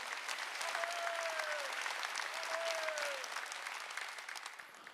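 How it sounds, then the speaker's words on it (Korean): A congregation claps together during a Sunday worship service in a Korean church, sustained, even applause filling the room for several seconds, with a faint tonal swoop sounding twice in the background as the clapping slowly tapers. "이초성 목사가 광고하는 걸 듣는 사람은 박수 치라는 거예요."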